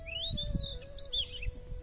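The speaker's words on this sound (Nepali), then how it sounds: "कस्तो मिठो चरा कराएको यार" A songbird sings in a village on a pleasant afternoon, a few bright chirping phrases at moderate distance over a low, steady hum and soft rustling background.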